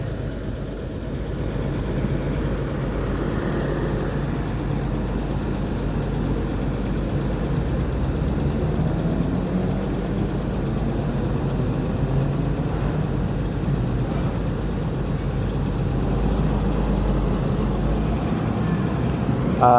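Steady low engine drone of an aging Jetbus 2 coach running strong on a Palembang to Jakarta trip, continuous and fairly loud inside the cabin, with no talk over it.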